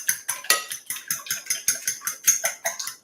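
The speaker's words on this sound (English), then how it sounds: "we're going to kind of whisk these together" A whisk clinks rhythmically against a bowl while mixing keto donut ingredients, a steady series of about fifteen bright metallic taps, close and alone without talk.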